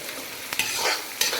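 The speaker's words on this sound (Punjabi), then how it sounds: "ਹੁਣ ਆਪਾਂ ਇਹ ਚੰਗੀ ਤਰ੍ਹਾਂ ਹਿਲਾ ਦਿੰਦੇ ਹਾਂ" Chopped bell pepper is stirred while frying in a pan for red sauce pasta, a steady sizzle with a few sharp utensil scrapes against the pan, close and fairly loud with no voices.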